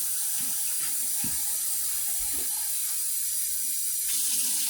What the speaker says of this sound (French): Je vais ajouter de l'eau.